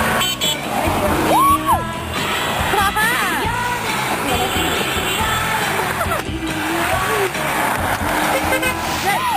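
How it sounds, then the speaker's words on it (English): Car horns honk repeatedly along a road, several short toots rising over steady traffic and vehicle noise, with people talking throughout. "Did you hear that guy who was honking"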